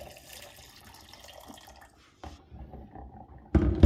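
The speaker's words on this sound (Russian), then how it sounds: "И разбавляю горячей водой." Hot water is added to cold water in a container of walnuts, heard as a faint trickle and splashing that ends in a louder burst of pouring.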